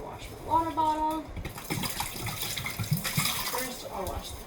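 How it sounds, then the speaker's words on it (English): Water runs steadily from a tap as a water bottle is washed underneath it at a sink, a continuous close splashing wash that carries through the whole stretch, with a voice briefly speaking over it early on. "And then I'm going to wash my water bottle."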